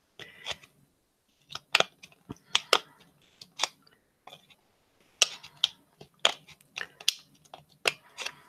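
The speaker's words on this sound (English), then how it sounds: "If I had a better pair of scissors, it probably would cut better." Scissors snip through plastic Christmas ornament material in short, sharp bursts of clipping, some paired and closely spaced, with quiet gaps between them, close and moderately loud with no talking.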